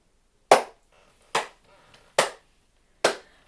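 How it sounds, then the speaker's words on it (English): Four crisp, evenly spaced hand claps during a flamenco dance lesson, struck with one hand held vertical against the other held horizontal, each a sharp near slap with a short pause between, alone without voices. "and we're clapping like this."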